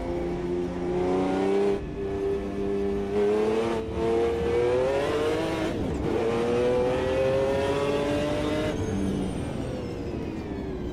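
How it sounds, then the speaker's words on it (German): The naturally aspirated V12 of a Ferrari F512 BB LM in Automobilista 2 on the Hockenheim circuit revs continuously, pitch climbing through gears with brief shift dips, loud and steady with no talk. "Wie V12 halt klingt, ne?"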